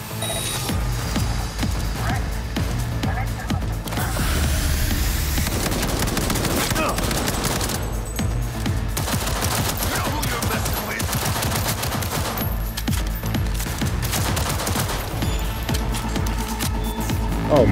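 Gunfire in Cyberpunk 2077, rapid sustained bursts of automatic shots with booming hits, loud and dense throughout over game music and effects, with a voice speaking at times.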